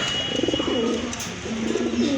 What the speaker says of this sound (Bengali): হলিকোপার কবুতর ইন্দোনেশিয়ান কালারের ভিতর খুবই চমৎকার